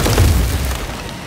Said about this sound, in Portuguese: Isso é que é explosão.